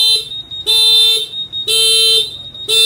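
A Honda Vision scooter's anti-theft alarm horn blares in loud, repeated pulsed bursts, three long shrill electronic blasts with short gaps, close by and alone.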